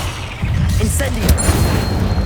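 Incendio fire spell cast in Hogwarts Legacy, a sudden whooshing burst with a booming crackle of flame that swells and lingers, heard alongside game ambience.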